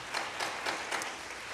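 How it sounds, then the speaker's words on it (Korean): Congregation applauding during a church youth worship service, a short burst of steady hand clapping with no talk over it. "하나님께 영광의 박수를 불러드립시다"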